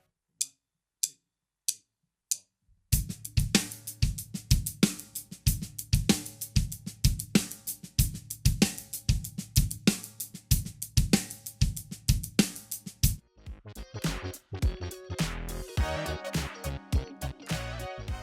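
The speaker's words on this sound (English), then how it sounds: "And now again, adding the bass drum, the groove sounds like this." Drum kit groove with a syncopated paradiddle hi-hat figure and bass drum, played close and crisp in a steady pattern after a few opening clicks.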